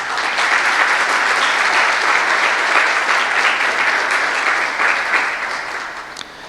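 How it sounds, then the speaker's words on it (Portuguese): A church congregation applauds together, a dense, steady wash of clapping that holds at full strength and then begins to fade near the end, with no talking over it. "Você que está me entendendo, aplauda o nome do Senhor."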